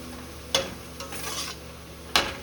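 A spoon stirs onions frying in a pan for beef yakhni pulao: three short, faint scraping strokes over a low background sizzle.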